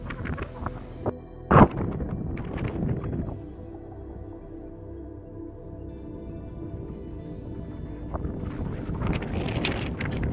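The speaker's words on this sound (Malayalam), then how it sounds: "നല്ല കാറ്റും ഉണ്ട് ഇവിടെ." Steady wind buffets the microphone at an open mountain viewpoint ringed by hills at Nelliyampathy, with a low continuous rumble, a sharp gust-like thump early on and the roar swelling again near the end.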